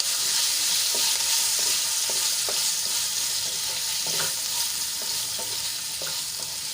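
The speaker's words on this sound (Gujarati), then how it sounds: "मरचाने આપણે સારી રીતે તેલમાં મિક્સ કરી લઈશું।" Chopped green chillies fry in oil with a pinch of asafoetida, a steady bright sizzle with occasional soft taps and scrapes of a spoon stirring, close and continuous, no voices.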